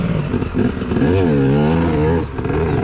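An enduro motorcycle engine catches and revs, rising and falling in loud, close, wavering bursts with mechanical clatter around it.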